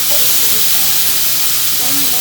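Pork belly pieces sizzle and hiss steadily in a hot pan, a loud, dense frying noise filling the whole stretch with no pauses.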